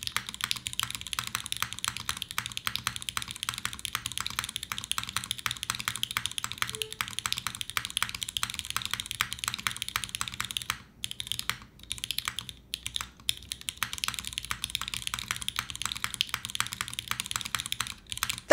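Steady, fast typing on a Code Geass themed mechanical keyboard with lubed switches, close and clear, a continuous clatter of key presses with a couple of brief pauses near the end and no talking.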